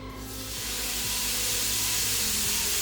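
Seasoned shrimp go into a hot pan that was sprayed with oil first, giving a loud, steady sizzling hiss that builds in the first moment and then holds evenly close up.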